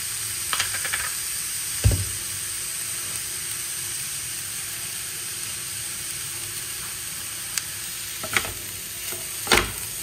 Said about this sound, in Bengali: মূলোটা আমার রেডি হয়ে গেছে, পুরো একদম মশলা মেখে একদম শুকনো শুকনো ভাজা হয়ে গেছে